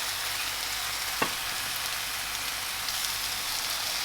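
Cut sausage pieces fry in a pan for a hotdog and hamburger meal, giving a steady, even crackling sizzle throughout with one brief sharp tap partway through and no talking.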